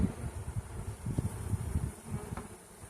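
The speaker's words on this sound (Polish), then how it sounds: "Pszczoły tutaj, jak, jak można było zauważyć, jest sporo" Bees buzz in a dense, close swarm around a hive nucleus colony, a continuous low droning hum with fluctuating intensity and no voices.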